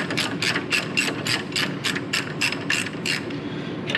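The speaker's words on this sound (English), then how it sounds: "now I'm just going to use my ratchet to take these out." A hand ratchet backs out brake caliper bolts on a 2010 Toyota Tundra during a front brake job, giving a loud, close run of rapid metallic clicks in regular bursts, about a dozen strokes, with no talking.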